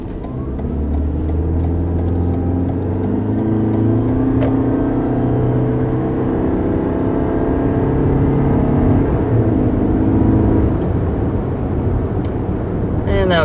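A 2021 Toyota Corolla Hybrid accelerates to 55 mph going downhill, its steady engine drone and road hum rising in pitch through the whole stretch, heard from inside the car.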